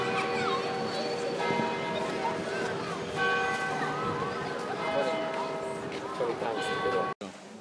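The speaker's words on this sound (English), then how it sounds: "And it's ringing the bells for 4:30." Church bells of Westminster Abbey ring out at half past four near the north door in London, tones hanging steadily over busy street bustle and nearby voices, ending with a sharp cut.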